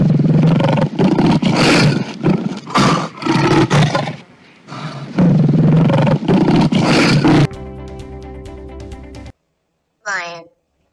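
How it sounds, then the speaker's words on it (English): Lion roaring: several long, loud, raspy roars in close succession, followed by a short tonal passage and a brief rising cry at the end. "Lion."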